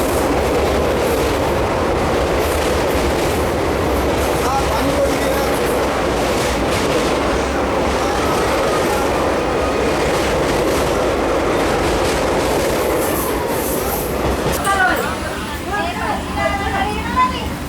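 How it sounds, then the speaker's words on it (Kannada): A DEMU express train on the Solapur–Hosapete run (11415) rolls into a railway station, heard from on board as a loud, continuous rumble and rattle that eases slightly near the end. "Kudala Sangama road railway station entry ಆಗ್ಯಾವ್ರಿ"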